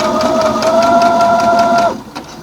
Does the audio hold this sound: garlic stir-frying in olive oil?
no